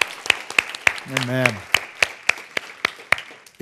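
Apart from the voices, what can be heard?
congregation applause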